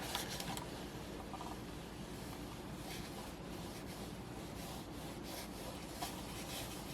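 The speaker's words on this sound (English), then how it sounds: "It kind of feels like some of the plastic is rubbing on the mouse pad." The plastic feet of a Ninjutso Origin One X mouse scrape across a mouse pad, making a faint, continuous scratchy rubbing with small uneven bursts as the mouse is moved back and forth.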